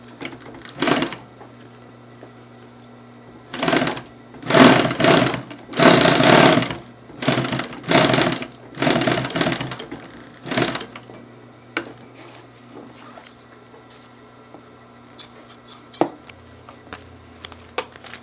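A sewing machine top-stitches a zipper onto fabric for a backpack or duffel bag. It runs in several loud, close bursts of rapid stitching, the longest in the middle, then a few quieter clicks and pauses, with no talking.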